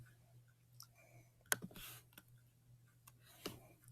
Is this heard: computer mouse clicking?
yes